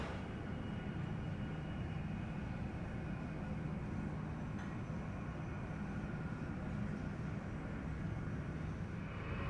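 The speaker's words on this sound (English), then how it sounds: "We are on our lovely 800 aircraft. We're boarding up on our way to Chicago." Steady, even cabin roar aboard an 800 airliner at the gate during boarding for a flight to Chicago, a continuous broadband rumble with no voices.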